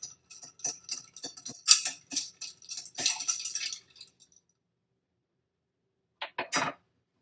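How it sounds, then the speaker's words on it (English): Ice clinks rapidly against a glass as a Halloween cocktail is stirred to chill it, a close, crisp run of light ticking rattles lasting several seconds, then a pause and a few final clinks. "Then we just stir to chill."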